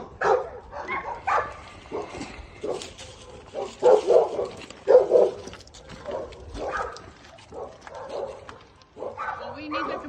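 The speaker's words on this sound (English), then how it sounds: "there's another dog over there" A dog barks repeatedly in short bursts nearby during an outdoor encounter with police, mixed in with people talking throughout.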